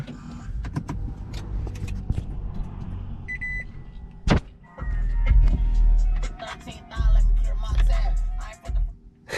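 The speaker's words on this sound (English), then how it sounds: "gonna start the car" Clicks and mechanical whirring inside a 2008 Toyota Prius, then a low engine rumble kicks in and swells in uneven bursts, with occasional talking.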